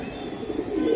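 Low throaty cooing from Bezi pigeons swells toward the end, a continuous close warble over soft room noise.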